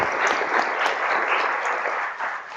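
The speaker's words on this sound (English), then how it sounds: "we owe another round of applause to these women who have so eloquently shared" An audience at a public meeting on drug development applauds women panelists, a dense, even patter of clapping that holds steady for a couple of seconds before easing slightly at the end.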